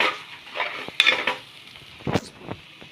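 A spoonful of pav bhaji masala and kasuri methi stirred into a frying mixture, with a quiet sizzle and a few sharp clinks and scrapes of a spoon against the pan, close and brief.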